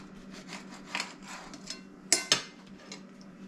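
A small knife cuts into fried eggs on a plate, with soft scraping strokes and then two sharp clinks of metal against the dish, close and quiet.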